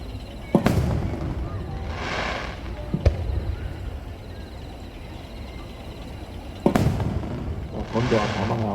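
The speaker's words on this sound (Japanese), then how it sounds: "白い小さな花が霞のように霞草を花火で表現してみました。" Kasumisou-style fireworks shells burst over Nagashima Onsen at a summer festival display, sharp launch thumps and booming reports followed by crackling sparkle, with an announcer talking over the show.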